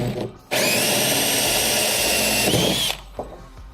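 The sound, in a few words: drilling a 1 3/8 inch hole saw into kayak rail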